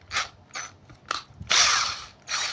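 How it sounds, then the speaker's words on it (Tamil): A battery-powered cordless drill runs in a few short bursts followed by one longer spin and a final burst, with a close, loud whirring motor and no talking. "பேட்டரி போர்டு எப்படி இருக்குன்னு யூஸ் பண்ணி காட்டுறேன் உங்களுக்கு."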